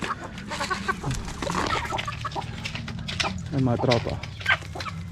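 Australorp chickens clucking in a backyard flock, busy overlapping clucks and short calls nearby, with someone talking over them.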